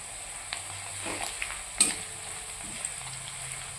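Onions frying slowly in oil with salt and sugar for a chicken dish, a faint low sizzle with occasional soft stirring scrapes and one sharper clink, quiet and without talk.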